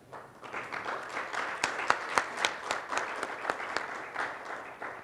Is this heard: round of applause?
yes